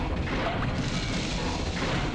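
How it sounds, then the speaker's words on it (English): An explosion in the video game Chibi-Robo, heard as a sustained, loud, broadband roar and rumble that carries on steadily for a couple of seconds with no talking over it. "Explosion!"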